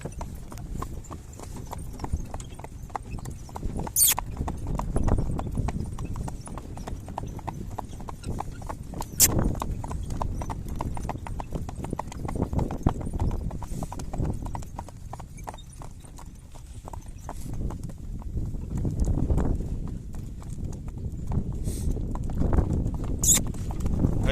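Horse hooves clip-clop in a steady walking rhythm, with occasional louder knocks over a low rumbling background.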